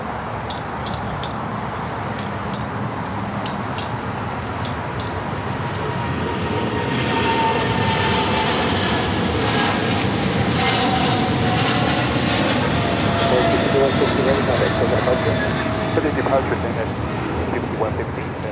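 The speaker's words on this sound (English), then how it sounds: "China Airlines cargo, the 777 freighter heading to Taipei, rolling down" A China Airlines Boeing 777 freighter rolls down runway 25L at LAX on its takeoff run, a broad, steady engine roar that builds and stays loud throughout, with voices talking over it.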